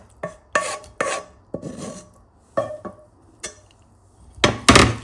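Tuna mash is worked together with fried onion, dried chili and garlic in a bowl, producing close, irregular scraping and squishing strokes with light clinks, a burst roughly every half second, louder toward the end, without speech.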